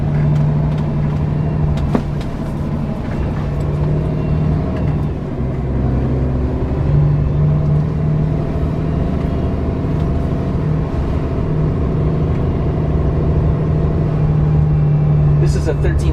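A Scania truck with a 13-litre six-cylinder engine runs with a steady low drone throughout, close and loud, with people talking nearby over it.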